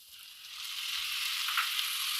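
Chopped tomatoes go into a pan with browned bell peppers and onions and sizzle and bubble, a close, hissing fry that swells slightly and then holds steady with no talk.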